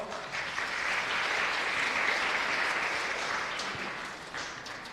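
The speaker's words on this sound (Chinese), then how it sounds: "拍手" A church congregation at a Sunday worship service claps together, a dense, steady round of applause that swells quickly and holds for about five seconds before tapering slightly.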